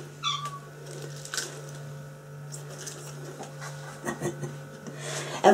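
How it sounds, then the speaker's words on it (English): A short electronic meow from a phone game chirps near the start, with a few more faint mewing blips over a steady low hum and quiet background movement. "I've got a little game on my phone and it gives me a meow sound"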